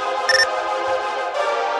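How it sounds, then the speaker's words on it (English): Mobile phone chirping with a loud, close electronic ringtone tone that holds for nearly two seconds, a brief brighter blip near the start. "hear my phone chirping"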